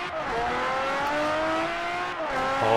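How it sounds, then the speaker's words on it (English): Car engine in the racing video game Forza Horizon, a sustained steady rev with a smooth rising pitch, fairly faint and alone, ending in a brief shift. "this engine sound is better than any song I can play on this radio"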